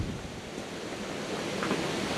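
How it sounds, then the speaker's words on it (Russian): Strong, steady wind roars across the microphone by the water at an October fishing spot, a dense, continuous rushing gust noise with no voices, loud and close throughout. "Вот такой вот, смотрите, ветруган."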